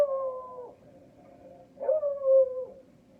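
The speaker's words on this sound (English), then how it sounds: "He's outside right now barking at probably chipmunks." A beagle outdoors lets out two drawn-out howling barks, a longer wavering one at the start and another after a pause, heard at moderate distance in an otherwise quiet room.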